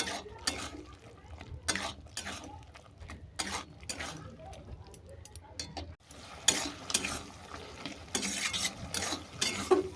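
A spoon stirring potato and snake gourd curry with grated coconut in a pan, scraping and clinking in repeated bursts while leftover liquid sizzles and cooks off, fairly close and steady throughout.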